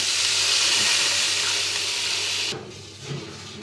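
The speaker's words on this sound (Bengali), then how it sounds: "এরপর আমি জল দিয়ে দেব।" Water poured into a pan of fried spice masala for a vegetarian potato and pointed gourd curry: a loud, steady sizzling hiss that drops abruptly and settles into a quieter bubbling simmer.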